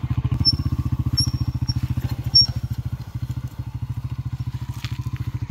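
A motorcycle engine idles nearby with a fast, even putter that keeps going throughout, while faint clatter and small high chirps sound in the background.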